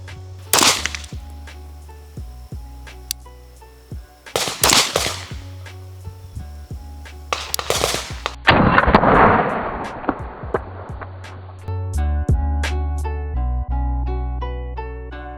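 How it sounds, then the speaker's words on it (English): Sig Sauer P226 MK25 pistol fired at a target about 20 yards away outdoors: several sharp, loud gunshot cracks spaced seconds apart, each with a brief echoing tail, amid a steady background hum. "So we're gonna go ahead and put a couple rounds in the distance."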